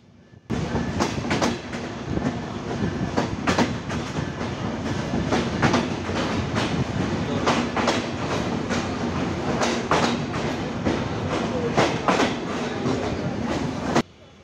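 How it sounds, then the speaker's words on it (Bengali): Chitra Express train at Noapara railway station in Jessore district, running on the rails with a steady loud rumble and repeated clickety-clack beats from wagon wheels passing over rail joints, sustained for the whole stretch. "চিত্রা এক্সপ্রেস ট্রেন ছেড়ে যাচ্ছে নোয়াপাড়া রেল স্টেশন"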